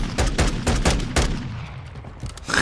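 JAK Warden weapons fire in a video game as a fast burst of sharp, booming gunshots, several quick reports up front trailing off into a fading rumble, loud and close.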